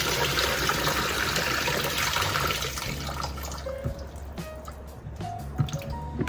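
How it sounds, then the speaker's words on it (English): Water from washed mushrooms pours and drains out of a salad spinner, a rushing gush at first that thins into trickles and scattered drips, close and loud with no talking. "pour this and strain all the water"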